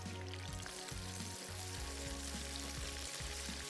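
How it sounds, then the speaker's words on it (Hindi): Garlic fries in a pan for dum bhaji masala, a steady broadband sizzle with faint crackle over a low background hum, close and continuous, no talking. "गार्लिक जो है हमारा फ्राई हो गया है"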